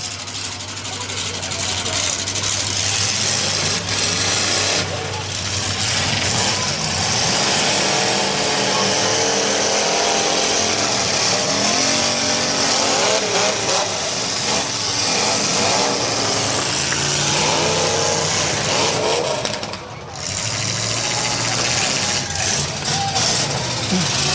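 Several cars at a demolition derby in Athens County, Ohio, run and rev their engines in a loud, continuous roar with surging revs, while an announcer talks over the din.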